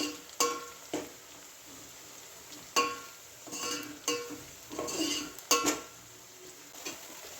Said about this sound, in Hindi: हमें प्याज को बीच बीच में चलाते हुए हल्का गोल्डन ब्राउन होने तक भूनना है